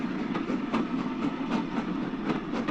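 A train runs along the track, its rhythmic clickety-clack repeating steadily over a low rumbling drone, close and fairly loud, with no one speaking.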